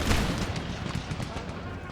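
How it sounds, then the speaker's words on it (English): Musket volleys and artillery fire boom across an Empire Total War battlefield, a continuous rolling barrage of overlapping shots and blasts, loud at first and then slightly receding. "they're firing on us"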